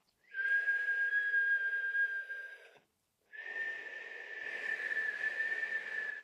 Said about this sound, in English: We're going to be inhaling and exhaling here through a whistle-shaped mouth.